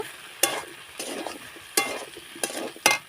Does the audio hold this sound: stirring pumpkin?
yes